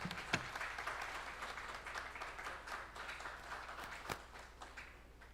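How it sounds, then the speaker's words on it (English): At a tech summit foundation day ceremony, a hall audience gives soft, fairly distant applause, a continuous patter of clapping with a couple of sharper knocks. "A huge round of applause, ladies and gentlemen."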